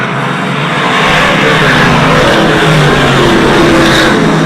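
Race cars roar around slower traffic on a racing circuit during a competitive event, a dense, loud, continuous engine drone with revving as cars pass close by, no voices over it.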